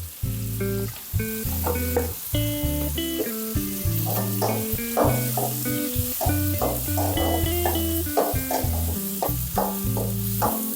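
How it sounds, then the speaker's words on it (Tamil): Onions and tomatoes with turmeric sauté in a clay pot for a fish curry, with sizzling and stirring scrapes heard under prominent background music. "பாருங்க, இந்த அளவுக்கு வெங்காயம் தக்காளி எல்லாம் வதங்கிடுச்சு."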